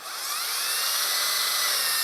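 Steady, loud high-pitched whine of a power drill boring into a 1:10 scale RC car chassis, running continuously for the whole moment without any voices.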